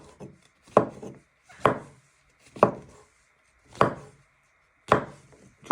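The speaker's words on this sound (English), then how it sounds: "Next step, you're going to prep your mushrooms, and you just want to finely slice them." A knife finely slices mushrooms on a wooden board, giving five or six crisp chopping strikes spaced about a second apart, close and clear with no talk.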